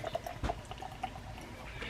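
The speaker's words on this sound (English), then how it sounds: "Give it a pour." Beer pours into a mug with a soft trickle and light splashing, quiet and close.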